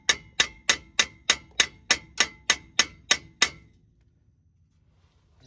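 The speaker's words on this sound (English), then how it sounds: "What I'm doing is I'm pulling on the hub while I smack on it." Hammer smacking the front axle hub of a 2006 Ford F-250, ten sharp metallic blows in a steady rhythm, close and loud, then quiet.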